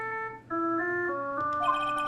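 A phone ringtone from the Ace Attorney: Justice For All video game plays a clear electronic melody of sustained stepping tones, steady and moderately loud, with no talking over it.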